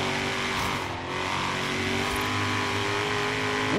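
Ford GT350R engine roaring steadily through a race in Forza Horizon 3, a loud continuous drone with sustained revving and no break across the span.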